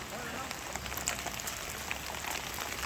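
Steady rain patters on a surface with scattered faint drips in a bitter gourd field at harvest, a soft continuous wash of sound with no clear voices.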